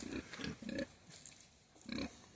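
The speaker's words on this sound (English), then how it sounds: "Yeah, and then I'll show you our pigs." Pigs grunt in short, low bursts on a small farm, a few close rhythmic snorts with pauses between them.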